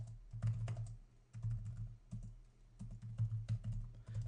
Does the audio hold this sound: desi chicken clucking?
no